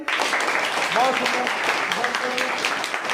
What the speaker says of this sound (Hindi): बजा ताली